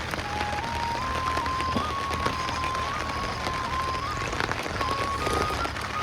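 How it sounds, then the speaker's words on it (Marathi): Heavy rain falls in a steady, broad patter on surfaces throughout, with a faint thin tone running underneath and no clear talking. "चांगलाच पाऊस वाढलेला आहे बघा"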